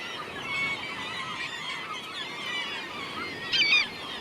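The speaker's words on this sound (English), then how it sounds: "As the water level drops, the birds actively occupy these areas, building their nests in the spring." Seabirds calling over sandbanks where they nest in spring by the Caspian shore, a continuous dense chorus of honking, goose-like cries at moderate distance, with a louder, closer burst of calls near the end.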